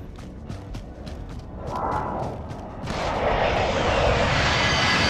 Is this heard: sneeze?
no